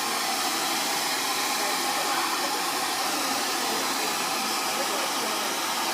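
A blow dryer roars steadily and close, a constant airy whoosh that holds the same level throughout.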